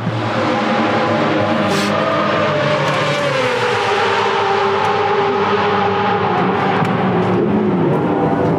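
Lorenzo's Yamaha racing motorcycle, at the GMT94 Yamaha team at Portimão, performs a practice start, its engine roaring loud and steady with shifting pitch throughout, nearby and unbroken.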